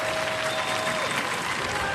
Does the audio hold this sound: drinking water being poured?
no